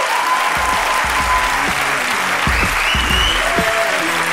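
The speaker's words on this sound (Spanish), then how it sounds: "fuerte aplauso para la sala de humor" Loud, dense audience applause at a live comedy show, a sustained roar of clapping from a packed room with a few faint voices mixed in, steady from start to finish.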